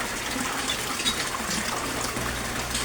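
Resun aerator pump bubbling and churning water in a yellow koi basket, a dense steady rushing wash of water with no breaks, close and fairly loud.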